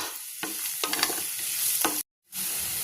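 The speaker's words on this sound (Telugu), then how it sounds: "ఇప్పుడు దంచుకున్న వెల్లుల్లి ఒకసారి అంతా పచ్చివాసన పోయేదాకా ఫ్రై చేసుకుందామండి" Crushed garlic frying with onions in a pan, a steady hiss broken by several scraping stirs and one brief drop to silence near the end.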